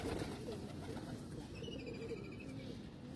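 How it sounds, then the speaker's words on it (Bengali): Pigeons coo and rustle while being fed puffed rice near a temple: soft, steady low warbling from several birds, fairly close, with no talking. "তা যে এই দেখুন আবার সেই সবাই চলে আসছে, কত পায়রা এসছে।"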